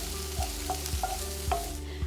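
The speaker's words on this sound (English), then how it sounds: "we're gonna add in 2 to 3 cloves chopped garlic." Chopped onions and garlic sizzle in a pan under a steady hiss, with several sharp clacks of a utensil against the pan at irregular intervals over a low constant hum.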